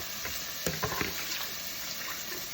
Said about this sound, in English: I'm putting some water in where I took the seasoning from